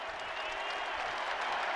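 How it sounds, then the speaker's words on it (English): Basketball arena crowd inside the Dome at a Syracuse versus Louisville game, on its feet as a player heads to the free-throw line, a steady wash of cheering and applause that holds without a break. "The crowd on its feet here in the Dome as Frank Anselem heads to the line"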